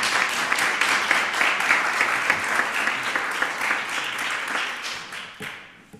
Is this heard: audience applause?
yes